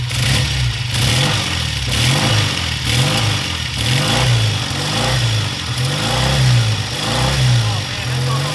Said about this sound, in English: we're gonna rev it up now, and it should move back to the line